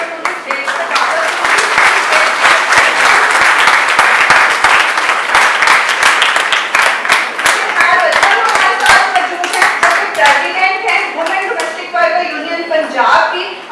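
Sustained applause from a seated audience at a May Day gathering of domestic workers demanding social security, dense clapping filling the room for over ten seconds before thinning toward the end, with voices mixed in.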